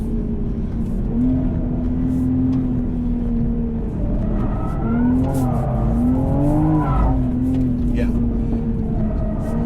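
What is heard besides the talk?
Toyota GR Supra engine revving while sliding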